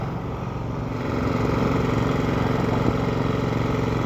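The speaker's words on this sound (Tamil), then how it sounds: "ஒரு பில்டிங் கன்ஸ்ட்ரக்ஷன் நடந்துட்டு இருக்கு" A building construction site with an engine running nearby, a loud, steady mechanical drone that holds constant and swells slightly after the first second, with no speech.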